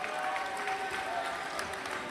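Scattered clapping from players and spectators at a dodgeball world championship match, steady moderate applause in a large hall, with faint voices in the background.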